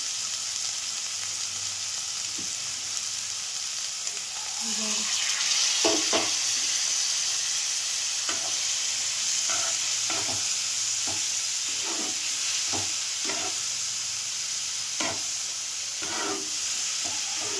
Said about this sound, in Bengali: ভালো করে মশলাটাকে কষে নেব।